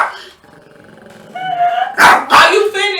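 A chihuahua barks twice in sharp, loud bursts near the end, following a stretch of indoor talk, with speech continuing around the barks.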